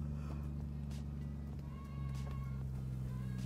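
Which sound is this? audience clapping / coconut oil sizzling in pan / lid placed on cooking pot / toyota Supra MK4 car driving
toyota Supra MK4 car driving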